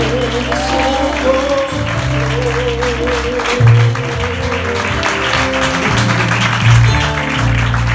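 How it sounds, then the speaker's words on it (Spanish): Congregation in a church gives the Lord strong applause, steady massed clapping carried over sustained music throughout. "Vamos, iglesia, levántale un aplauso fuerte al Señor."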